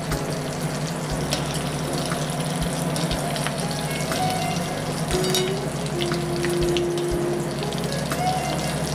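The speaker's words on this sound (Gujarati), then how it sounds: "બ્રાઉન થાય ત્યાં સુધી આપણે તળવાની છે." Patties deep-frying in hot oil until brown, a steady dense sizzle and bubbling that holds evenly throughout with a low hum underneath and no talking.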